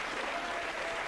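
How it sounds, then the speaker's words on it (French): Dense, steady applause from a television studio audience, loud and continuous with no pauses, filling the entire short stretch. "qu'on peut applaudir très fort parce que c'est"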